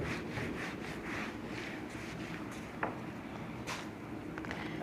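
Writing is rubbed off a board in a class maths lesson, a soft, rhythmic scrubbing of repeated strokes, fairly quiet, with a couple of brief knocks partway through.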